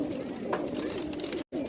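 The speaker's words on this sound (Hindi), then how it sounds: "खूबसूरत खूबसूरत कबूतर हैं" Soft, low pigeon coos blend into a continuous murmur from several birds nearby, with a brief gap near the end.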